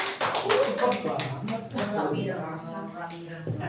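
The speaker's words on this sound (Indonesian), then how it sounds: "beri tepuk tangan untuk kelompok" Indonesian classroom of students clapping for a group, the claps scattered and uneven over a teacher's voice, close and moderately loud with chatter mixed in.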